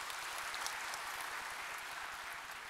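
Applause from the audience at a university graduation ceremony in Samarinda, a steady, dense wash of clapping from a large hall crowd.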